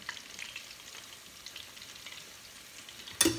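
Crab and shrimp frying in hot oil give a faint, steady sizzle with soft crackles, ending in a brief louder spatter.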